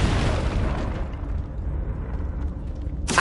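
Confringo blasting spell in Hogwarts Legacy, a loud booming burst that fades over about two seconds into a low rumbling tail, then another sharp impact right at the end.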